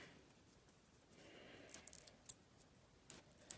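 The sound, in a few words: scissors cutting paper for a handmade card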